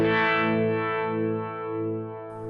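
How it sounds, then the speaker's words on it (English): A Keeley Supermod Workstation pedal set to harmonic tremolo with reverb colors a sustained, distorted guitar chord, the tone gently pulsing and swelling as it rings out alone for a couple of seconds. "So that's the harmonic tremolo and the reverb."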